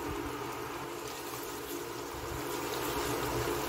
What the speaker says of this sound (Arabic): لهنا الطماطم هيك قاعده تتقلى